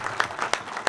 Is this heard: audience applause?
yes